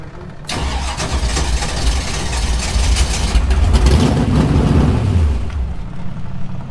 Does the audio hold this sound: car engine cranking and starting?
yes